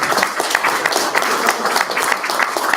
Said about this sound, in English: there was a round of applause for the treasurer